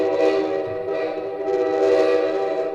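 A train whistle sound effect blowing as a donation alert on a live sports stream: a steady, loud, sustained multi-tone whistle that swells and continues for several seconds, with no voices.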